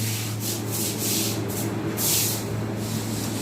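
Steady scrubbing of a pub beer cellar floor, brush strokes rasping in an uneven rhythm with a fuller swell near the end, moderately loud and close over a low background hum, with no voices.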